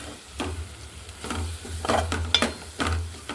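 Tamarind leaf curry with chilli powder being stirred in a pan, a spoon scraping in a few short, uneven strokes over a faint, steady cooking hiss, close and fairly loud, with no voices.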